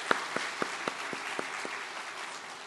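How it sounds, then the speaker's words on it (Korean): Congregation applause at a dawn church prayer service, a crowd clapping together in a steady wash of many hands with a few sharper claps standing out early on, held at a moderate level throughout. "새벽마다 찬양으로 우리 찬양팀들 위해서도 한번 감사의 박수 드리겠습니다"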